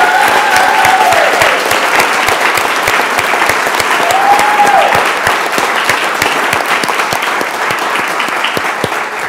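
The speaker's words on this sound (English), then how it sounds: "if we can give a round of applause to all of our coaches who work so hard for our kids" A school board meeting audience applauds its coaches in a long, loud round of clapping, individual claps popping sharply over the dense wash, with brief voices rising in the middle.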